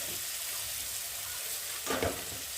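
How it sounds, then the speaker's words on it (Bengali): Turmeric powder is stirred into food frying in a pan, a dense, steady sizzle close up with a short scraping stir near the end. "আর একটু দিলাম হলুদ গুঁড়ো, ভালো করে নাড়াচাড়া করে নিয়ে"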